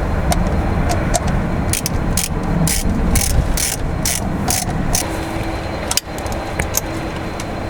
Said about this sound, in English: I'm going to socket and tighten that up